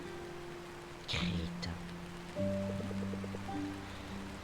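Steady soft rain falls in the video game Until Then, a light patter and hiss under gentle musical tones, with a brief spoken voice cutting in near the start.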